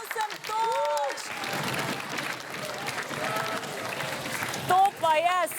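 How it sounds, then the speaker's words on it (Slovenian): Clapping from a studio audience follows a round of a brain-teaser quiz show, a steady wash of applause running throughout with voices talking over it at the start and end. "Tudi Tjulen je zaploskal."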